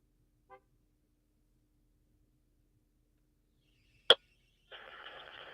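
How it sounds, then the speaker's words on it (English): A single short, sharp honk of a car horn cuts through near silence, followed by a low steady engine-like rumble. "She just honked the horn"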